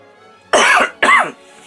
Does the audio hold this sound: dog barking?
no